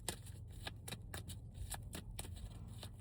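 Tarot cards being shuffled and drawn, a quick run of crisp papery riffles and slaps repeating roughly every few tenths of a second, close and fairly soft over a low steady hum.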